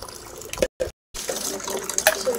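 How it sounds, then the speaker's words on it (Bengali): Tap water runs steadily over fish being washed in a home kitchen, a close hissing splash broken by two brief silences before it resumes. "ঠিক আছে, মাছ ধোয়া কমপ্লিট হলো।"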